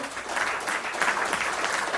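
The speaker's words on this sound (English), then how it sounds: "you round of applause for that" Audience applause at a talk show, a dense, steady wash of clapping that fills the moment without a break.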